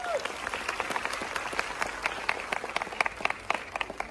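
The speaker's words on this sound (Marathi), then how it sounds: "टाळ्या वाजवा." Theatre audience clapping and cheering at a Marathi film screening, dense rapid applause with sharp individual claps standing out, moderately loud and steady throughout, with faint voices underneath.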